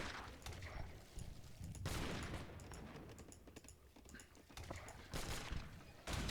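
Field cannon volleys in a strategy video game fire as sharp, rattling bursts of overlapping shots, returning every second or two with brief lulls between them.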